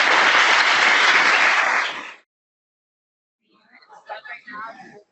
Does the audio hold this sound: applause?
yes